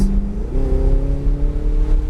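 A Ferrari 488 GTB on the Nelson Ledges race track gets back on the throttle, its engine note jumping up and then climbing steadily in a loud, close, rising howl without speech.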